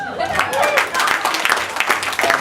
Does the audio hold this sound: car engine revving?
no